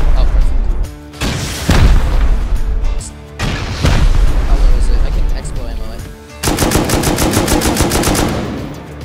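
Rocket explosions blasting into a base in the survival game Rust, heavy booming blasts and rapid gunfire-like bursts rolling over one another, loud and sustained, with voices talking underneath.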